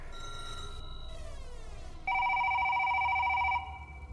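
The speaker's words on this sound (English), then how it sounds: "The phone rings at Mildred's house." Electronic telephone tones ring alone: a steady tone, then a falling sweep, then a louder pulsing ring that stops abruptly.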